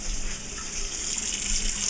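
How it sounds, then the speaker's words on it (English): Cold tap water runs steadily over rice held in a small mini strainer, a continuous close hiss and splash from start to finish with no voices. "Take a mini strainer of rice and drain it under cold water"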